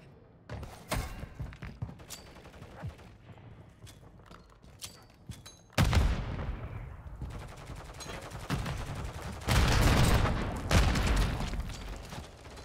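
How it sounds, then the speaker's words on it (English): Striker 9 gunfire in Modern Warfare 3 multiplayer, scattered shots and thumps early, then a loud sustained burst of rapid fire followed by more fast bursts, close and punchy. "this gun is like, it shoots super quick"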